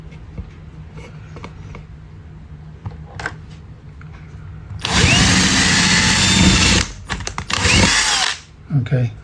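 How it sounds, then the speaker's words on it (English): A power drill with a 3 mm bit whirs loudly for a couple of seconds, stops, then bursts in again in shorter runs after quiet handling noises, drilling a coke can for a lantern. "and drill it here."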